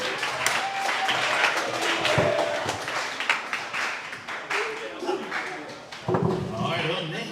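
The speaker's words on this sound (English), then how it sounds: "everybody give a big round of applause" A crowd at a team coach's show applauds a player, with scattered clapping and taps mixed with voices and room noise, irregular and moderately loud.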